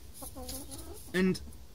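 A chicken clucks close by in an allotment garden, a short sequence of soft clucks followed by one louder, sharper cluck near the end, with quiet outdoor background.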